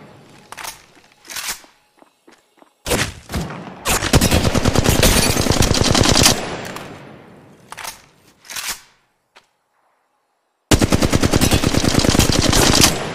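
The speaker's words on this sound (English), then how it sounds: "Shots fired, and they're hitting me." Automatic weapon fire in the Apex Legends Mobile video game: loud rapid bursts of gunshots separated by pauses, ending in a sustained burst, with no talk.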